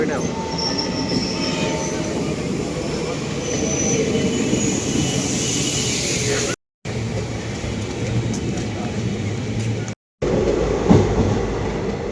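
A train rumbles past close by near Yeshwanthpur, Bengaluru, wheels squealing and clattering continuously at a loud, steady level, with two brief cutouts in the recording.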